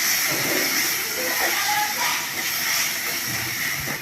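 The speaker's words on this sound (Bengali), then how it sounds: "একটু গরম জল দিয়ে দিলাম।" Hot water poured into a pan of pond tilapia curry cooked with garlic paste, ginger paste and ready-mix masala gives a steady, loud steamy hiss and sizzle throughout, with a voice speaking over it.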